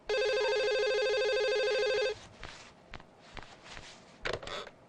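A telephone rings loudly with a steady electronic tone for about two seconds, then stops. Soft footsteps and rustling follow, with no speech.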